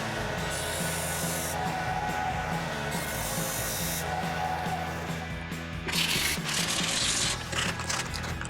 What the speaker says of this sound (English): bandsaw this 90 degrees to this edge, sand it smooth, and we'll glue another piece in here